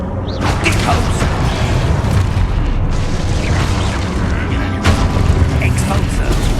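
Expulso spell explosions go off in Hogwarts Legacy amid combat, repeated booming blasts over a dense, loud battle din with a voice calling out.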